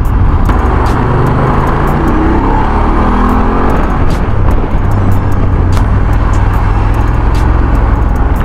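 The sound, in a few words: road traffic heard from a BMW F850 GS motorcycle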